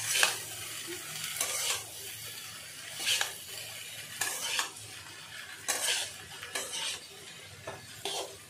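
Okra fries in a pan under a soft, steady sizzle while a spoon stirs and scrapes against the metal in irregular bursts, close and fairly quiet, with no talk.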